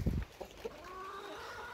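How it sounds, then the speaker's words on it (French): A few hens on a small farm give short, faint clucks and a thin, drawn-out call, with a brief louder burst at the start and quiet background hum. "toutes les poules aiment bien, mais Chippy, c'est une catastrophe avec le jus des graines fermentées à boire"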